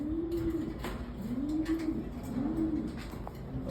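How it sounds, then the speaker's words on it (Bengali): A pigeon bred in a loft coos in a low, rolling rhythm, three or four soft coos close by over a faint background hiss. "চমৎকার একটা কবুতর"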